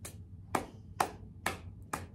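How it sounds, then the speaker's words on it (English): Five sharp hand claps in a steady rhythm, close and fairly crisp, each ringing briefly in a quiet library room with no talking. "This rhyme includes our special Storytime clap"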